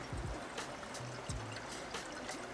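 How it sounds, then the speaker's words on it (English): Water poured from a container into a small camping kettle outdoors in the woods, a steady soft trickle and splash continuing throughout at close range, with no talking. "Now I'm gonna fill up my kettle before I start the fire"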